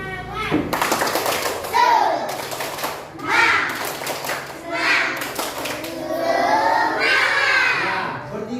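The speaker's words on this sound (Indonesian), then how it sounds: "kita mau mulai dengan tepuk semangat ya" Schoolchildren in a classroom chant and clap together in a tepuk semangat spirit routine, with voices rising in loud bursts, bright young shouting and rhythmic claps, led by a pupil in front.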